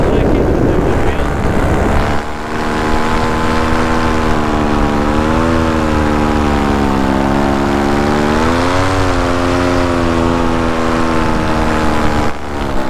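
A paramotor engine drones loud and steady in flight over South Beach, Miami, its propeller pitch wavering gently up and down as throttle shifts, with rushing wind underneath.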